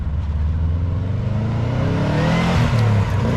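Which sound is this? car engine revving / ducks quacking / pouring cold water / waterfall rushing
car engine revving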